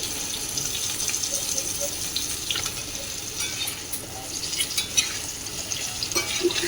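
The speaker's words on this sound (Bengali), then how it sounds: "তো আলুগুলো ভাজা হচ্ছে এর মধ্যে আমি ডাঁটাগুলো দিয়ে একসঙ্গে ভেজে নেব" Potatoes and vegetable stalks frying together in a pan, a dense continuous sizzle with scattered crackles and occasional scraping stirs, close and steady throughout with no voices.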